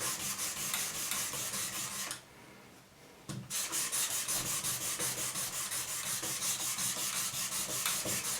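Steady rhythmic strokes of sanding by hand rasp across a surface being sanded before polishing, fast back-and-forth rubs repeating close up, with a brief pause and a soft knock midway before the sanding resumes.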